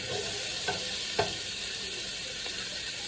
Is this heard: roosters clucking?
no